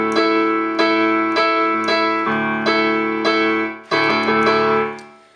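Syncopated piano chords from the right hand, an E octave with A in the middle, played as the pre-chorus part of a worship song: about nine sustained, ringing chord strikes in an offbeat pattern, loud and close, with no voice.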